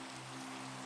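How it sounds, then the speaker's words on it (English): Steady rain falls in a Minecraft custom map, a dense, even hiss of raindrops on surfaces, heard alone without talk. "Ah, it's raining."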